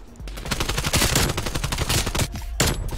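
Rapid automatic AK74U fire in the video game Black Ops Cold War, a dense, loud stream of gunshots over about three seconds with a short break near the end.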